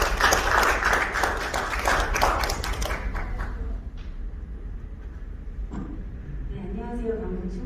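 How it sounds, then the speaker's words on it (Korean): Audience clapping to welcome a speaker at a medical AI leaders' forum in Daegu, dense and loud at first, then fading out after about four seconds into quieter room noise and faint voices. "큰 박수로 맞이해 주시기 바랍니다."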